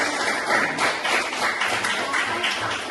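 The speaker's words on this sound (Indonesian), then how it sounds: "tepuk tangan untuk teman-teman" Students in a classroom clap for their classmates after a maths lesson on solving equations. The clapping is brief, scattered and fairly soft, with no talk over it.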